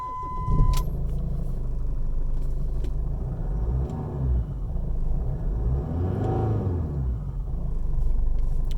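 A Jeep Cherokee Liberty with the CRD diesel engine cranks and catches after a short starter burst, then settles into a steady, low diesel idle rumble heard close up with no talking.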